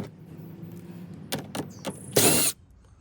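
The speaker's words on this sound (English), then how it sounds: "get a 7mm socket and take both these guys out" Screws being removed with a 7mm socket from the grille of a Ford F-150 truck: a few sharp, isolated clicks, then a short loud whirring burst that cuts off abruptly, close by in a quiet space.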